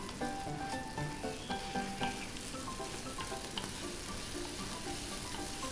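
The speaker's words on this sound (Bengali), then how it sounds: "ভালো করে মশলার সঙ্গে চাল আর আলুটা ভেজে নেব" Rice and diced potato fry with freshly ground spices in a pan on medium heat, giving a soft, steady sizzle under repeated light clinks and scrapes of a spoon stirring against the pan.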